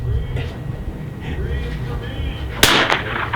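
A single crack from a Vudoo .22 rifle fired outdoors in light wind, a sharp brief report near the end after steady background rumble.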